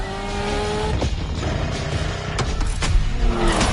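A Lamborghini drives in the racing game The Crew Motorfest, its engine droning loud and steady with shifting revs and a few tire squeals.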